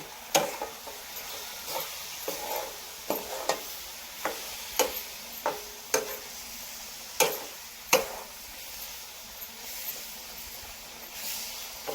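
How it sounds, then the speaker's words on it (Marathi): Jaggery being stirred into lemon pickle in a pan with a spoon, sharp scraping knocks recurring about once a second over a low, soft sizzle, with no talking. "आपण या गुळाला चांगल्या प्रकारे आता मिक्स करून घेऊ"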